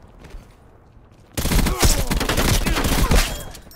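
Gunfire in Black Ops Cold War, a loud, dense burst of rapid shots that starts abruptly after a quiet stretch and rattles on continuously at close range.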